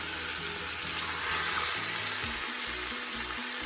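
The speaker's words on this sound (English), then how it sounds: "That's the sizzle you want to hear." Oxtail sizzles loudly in a hot pot on a stove near medium heat, a constant crackling hiss close up, with low rumbling underneath and no voices.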